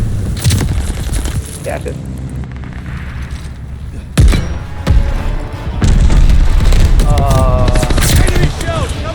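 Heavy mortar shell explosions in the war shooter Call of Duty Vanguard, several loud booming blasts and cracks with gunfire between them, while a player talks over the action.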